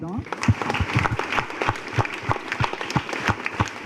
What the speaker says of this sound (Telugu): ఒకసారి చప్పట్లతో ఆనందిద్దాం